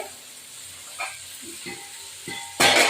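Quiet sizzling of onion and egg frying in a pan with a few soft stirring clinks, ending in a sudden loud burst of hissing as food hits hot oil.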